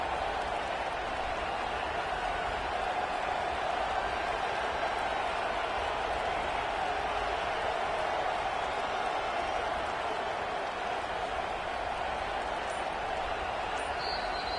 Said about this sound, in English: this crowd rises up to try to make it tough